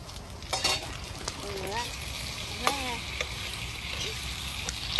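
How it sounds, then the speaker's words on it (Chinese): Tomatoes and eggs are stir-fried over a campsite fire, with a continuous soft sizzle and scraping stirs under occasional distant chatter and birdsong. "然后西红柿炒鸡蛋。"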